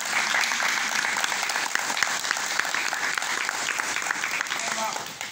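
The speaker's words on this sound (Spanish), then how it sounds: "Te pido un aplauso porque siempre me ha ayudado." Audience applause at a Swiss cultural week event in Interlaken, steady moderately quiet clapping from a crowd lasting about five seconds, with some voices underneath.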